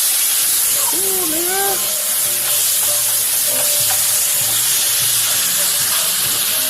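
Garlic fries in a hot pan with a loud, constant hiss of sizzling oil, while someone speaks briefly over it.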